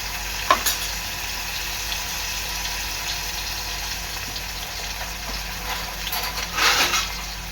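Potato and onion fry gently in a pan over low gas, making a steady moderate sizzle with a couple of brief stirring clatters near the start and end, heard up close without speech.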